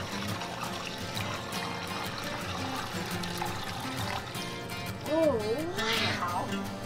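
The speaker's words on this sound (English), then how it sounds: "Now we're gonna put it into the big ice cream machine." Ice cream mix pours into a large ice cream machine in an ice cream shop. A steady, soft liquid flow runs under a constant room background, followed near the end by a brief rising-and-falling squeal.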